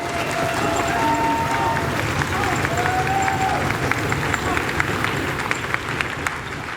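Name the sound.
audience applause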